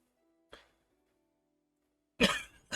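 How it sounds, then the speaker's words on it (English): A man coughs indoors, one short cough followed after a pause by a harsh double cough, close and fairly loud against silence. "I don't know why I'm coughing so much today."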